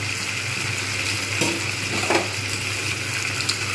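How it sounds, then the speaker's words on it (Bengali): Spice paste for a rui fish curry hits a hot pan, giving a continuous close sizzle and frying hiss, with a few brief clinks and scrapes of stirring. "এবার আমি সমস্ত মশলাটা এর মধ্যে ঢেলে দেবো"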